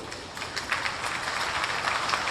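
An audience claps continuously at a public talk on reservation policy, a dense, steady patter of many hands throughout, fairly distant and with no voice over it.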